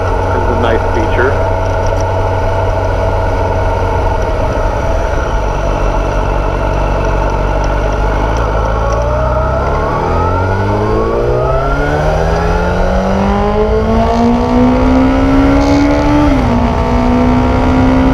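A 2006-2015 Yamaha FZ1 motorcycle fitted with a Dynojet Power Commander 5 idles with a loud, steady throb. It then revs up in a long rising sweep, holds high, and drops back sharply near the end.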